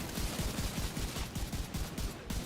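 Sustained rapid gunfire from a weapon emptying a magazine into the Chunga enemy in The Division 2, a dense, evenly spaced stream of loud shots over constant background din.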